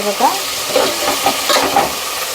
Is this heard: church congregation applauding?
no